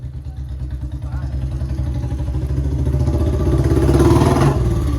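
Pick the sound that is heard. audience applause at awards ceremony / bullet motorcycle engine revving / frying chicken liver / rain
bullet motorcycle engine revving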